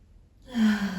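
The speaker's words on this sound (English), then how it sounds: "Take a deep breath." A single deep breath drawn in during a yoga child's pose: quiet at first, then a full, close inhalation swelling and holding briefly.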